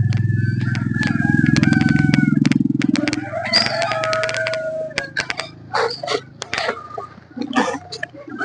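Chickens cluck and a rooster crows on a Vietnamese poultry farm in Chí Linh, Hải Dương, where chicks are being raised. A loud, dense burst of crowing comes first, followed by scattered close clucks and calls.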